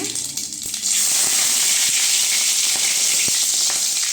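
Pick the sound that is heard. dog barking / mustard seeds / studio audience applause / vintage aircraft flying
mustard seeds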